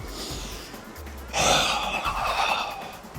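A sharp, breathy intake of air during solo Systema punch training, loud and close, rising suddenly partway through and trailing into steady exhaled breathing.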